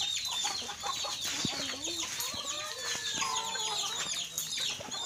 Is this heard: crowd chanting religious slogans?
no